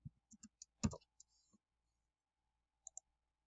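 Sparse, soft clicks from typing on a computer keyboard: a quick run of taps, a pause, then two final taps, quiet and close, with a voice briefly present.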